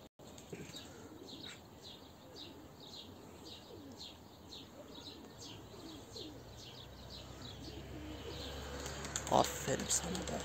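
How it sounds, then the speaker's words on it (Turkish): Tumbler pigeons released from their coop, with a steady flutter of wingbeats, soft cooing and scattered bird calls running throughout, while someone talks over them. "altına şu anda kuşlar açtık"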